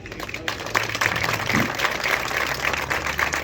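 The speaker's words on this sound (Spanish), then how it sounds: "vosotros ahora mismo os vais a dar un gran aplauso porque sois merecedores de ello" Audience clapping at a livestock fair in Navas del Marqués, Ávila, a moderate spread of hands applauding together, fairly distant and steady throughout.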